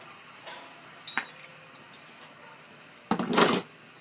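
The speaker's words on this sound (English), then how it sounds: "Now I'm going to put this this bottom grate in." A metal bottom grate is set into a Komodo Kamado ceramic grill, with a sharp metallic clank near the start, a few light ticks, then a louder scraping clatter, close and alone.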